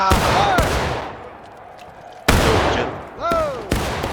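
Musket volley fire in the Civil War game War of Rights: loud, sharp cracks at uneven intervals, each trailing into a rolling echo, with shouted voices in the background.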